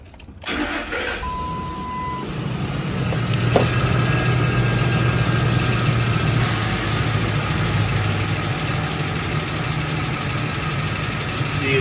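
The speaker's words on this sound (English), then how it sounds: "We're gonna go ahead and start the vehicle and see what it does" A car engine cranks and catches, then settles into a steady, loud, close idle with a constant low hum and faint whine, continuing to the end, no voices.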